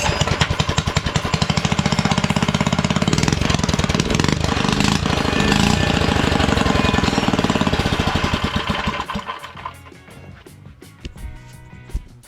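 A minibike's small gas engine starts on choke and runs loud and steady with a rapid, rattling putter, then drops away toward the end, leaving quieter idle and handling noise.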